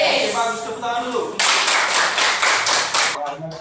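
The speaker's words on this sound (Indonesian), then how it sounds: "Oke, bagus, tepuk tangan dulu." A classroom of students claps together in a quick, brisk burst of rhythmic applause, loud and close, preceded and followed by a voice speaking.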